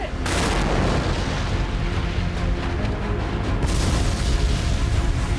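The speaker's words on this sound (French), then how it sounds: "Il décide de recréer l'incident avec son propre explosif" A powerful blast from a rapidly decomposing explosive erupts at the start, followed by a long rumbling roar that stays loud before a second surge near the end.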